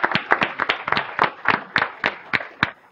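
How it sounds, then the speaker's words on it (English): Sparse clapping from a small group, individual claps distinct and uneven in rhythm, fairly close. "let's give Nancy a wonderful round of applause"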